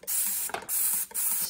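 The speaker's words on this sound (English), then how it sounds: "spray the diaphragm down." Two short bursts of water spray from a bottle mist a Willow Go breast pump diaphragm, close and hissing, with a brief pause between them and no talking.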